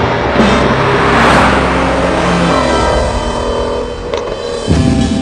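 A new Ford Shelby GT350 Mustang drives by with a steady, loud engine roar that swells and eases slightly, close by and continuous without talk.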